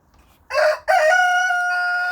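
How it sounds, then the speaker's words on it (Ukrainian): A rooster crows loudly and close by, a short rising note followed by a long drawn-out call. "півник"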